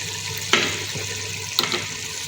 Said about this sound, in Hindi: ये देखिए मसाला हम भून रहे हैं